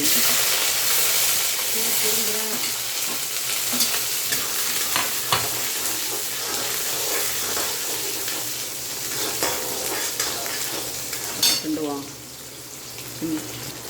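Small onions, garlic, green chillies and tomatoes frying with a steady sizzle while a utensil scrapes and clanks against the pan in irregular strokes.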